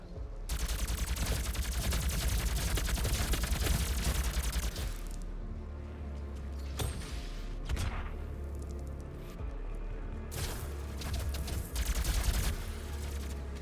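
The BFG fires during DOOM closed-beta gameplay on Xbox One, amid a dense, loud barrage of game gunfire and explosions that continues almost without a break before a few sharper blasts.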